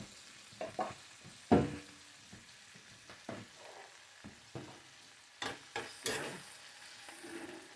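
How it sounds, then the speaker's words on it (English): Garlic frying in a pan, a soft background sizzle broken by intermittent scrapes and knocks as it is stirred and flipped, quiet and close with no talk. "Give it a little stir."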